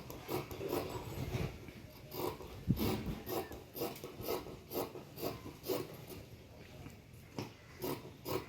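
Scissors cut through blouse fabric in rhythmic, rasping snips, roughly one every half second, close and fairly soft.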